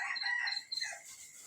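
A rooster crows at midday in the Lao countryside, one long, close, fairly loud call that rises and trails off, with no voices over it.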